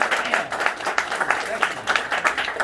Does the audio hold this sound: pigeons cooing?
no